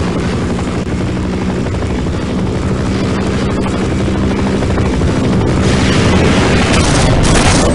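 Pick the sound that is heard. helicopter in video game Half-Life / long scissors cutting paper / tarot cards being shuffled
helicopter in video game Half-Life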